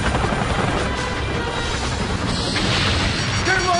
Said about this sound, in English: Red 4, unidentified incoming chopper.